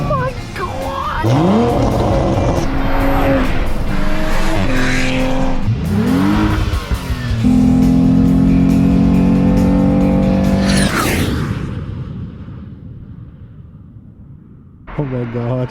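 Toyota Supra engine revving hard during a high-speed fly-by near 140 mph, loud and close, with rising and falling engine pitch sweeps and tire squeal, a roaring pass that fades away, while people react excitedly over it.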